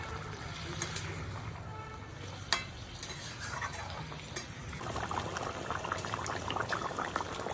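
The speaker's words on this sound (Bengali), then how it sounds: "ঝোলটা ফুটে গেছে, এবার ভেজে রাখা মাছগুলো দিয়ে দেবো।" Fish curry sauce bubbling at a steady boil in a pot, with a continuous gurgling and spluttering texture, an occasional clink of a spoon, and a slightly busier simmer toward the end, heard at close range with no talking.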